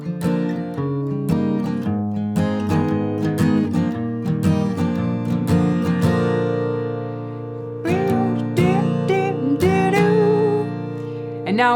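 A song's verse chords strummed on guitar, close and clear, steady rhythmic chord changes with bright plucked accents and slides, no voice.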